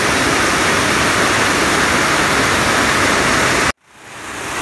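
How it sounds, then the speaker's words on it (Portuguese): Rushing water of the Corgo river below a park path, a dense, loud, steady roar that cuts off abruptly near the end. "Meu Deus, escutem o barulho da água."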